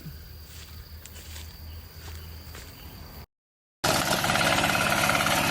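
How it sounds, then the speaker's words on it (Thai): A harvester tractor engine runs in a steady low drone under insect chirping, then cuts out briefly. It returns much louder and closer with a harsh, rattling roar. "รถไถเกี่ยวคนเดียวก็ทำงานได้"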